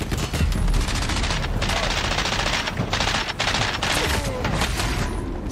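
Rapid automatic gunfire from the shooter game CrossfireX, a dense unbroken volley of loud shots that rolls on continuously.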